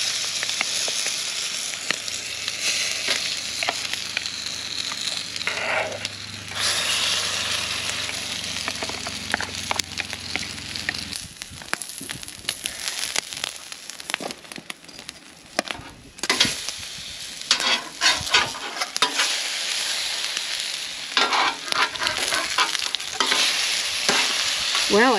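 Beaten egg cooks in a hot pan for breakfast sandwiches at a camp near Bryce Canyon, a long steady sizzle broken by repeated scraping and stirring strokes, close and without talk.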